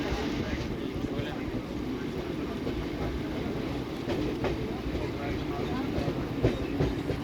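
A Central Railway local train rumbles steadily along waterlogged tracks at Kanjurmarg, a continuous close rolling roar with faint clickety-clack and a voice speaking under the noise.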